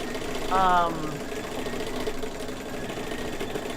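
An in-the-hoop quilt-block machine stitches with a steady, fast mechanical hum and rattle, and a voice talks over the running machine.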